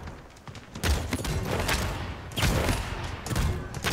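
Rapid gunfire from Androxus in the Paladins video game, a dense run of loud, close shots crackling through a 1v1 match with bursts clustering in quick volleys.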